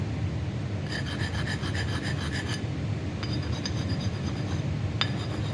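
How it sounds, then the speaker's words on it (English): A small block Chevy connecting rod is rubbed with a stone or sandpaper, giving a steady dry rasping scrape with a few light metallic clinks, close and continuous with no talking. "You can use a piece of stone, sandpaper. You hit it like that."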